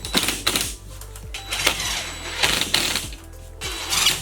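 A screw gun drives screws into drywall hung on a barndominium ceiling, giving a close, loud run of clattering, whirring bursts with short pauses between them.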